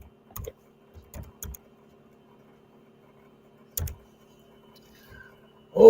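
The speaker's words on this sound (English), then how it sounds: "My keyboard spells things backwards sometimes." Scattered clicks of a computer keyboard being typed on, a few isolated keystrokes and short clusters separated by quiet pauses, close and fairly crisp.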